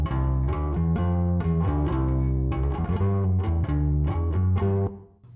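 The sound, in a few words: processed bass guitar track playing in Studio One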